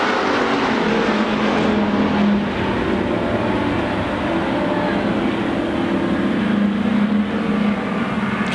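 Pure stock race cars at Central Arizona Speedway roar continuously as a pack revs and races around the oval, a loud steady engine drone with no break throughout.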